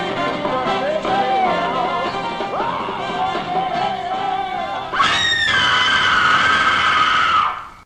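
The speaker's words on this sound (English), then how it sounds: "until she runs into Mango and screams" A woman screams in the film Blood of Dracula's Castle: a long, wavering cry that rises into a louder, sustained shriek near the end and then cuts off.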